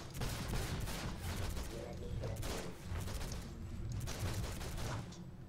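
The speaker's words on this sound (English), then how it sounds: "Launch the missiles." Missile launches in the video game DC Universe Online, a dense, continuous barrage of loud rapid blasts and explosive bursts that swell and fade in waves without a break, with faint game voices mixed in.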